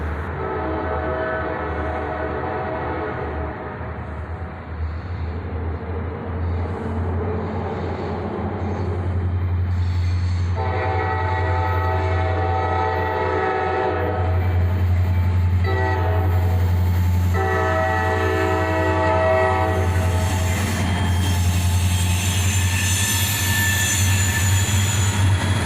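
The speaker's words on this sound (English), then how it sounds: "we had a northbound CSX train coming" A northbound CSX freight train with two EMD locomotives, led by an SD42, rumbles past nearby with steady clattering wheels, and a loud multi-tone horn blares in several long blasts over the rolling noise.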